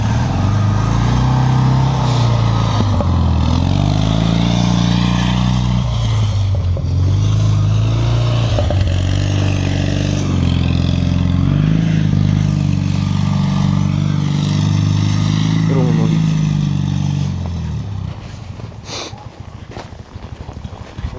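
A Fiat 126p drives and drifts through winter snow, its small engine loud and close, revving up and down in long uneven swells, then dropping away and fading over the last few seconds.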